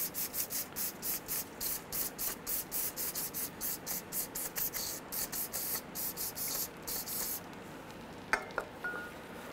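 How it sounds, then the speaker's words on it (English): Aerosol can of brake cleaner sprayed onto a greasy front strut assembly from a 2003-2011 Honda Element, a rapid series of short hissing bursts, then a few light metallic clinks. "We're gonna hit it with some brake clean."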